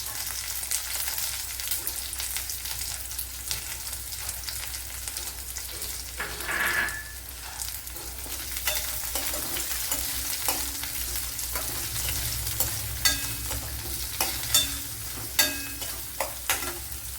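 About ten sliced small shallots sizzle and fry in a pan, a continuous hiss with occasional stirring scrapes and a few sharper clicks toward the end.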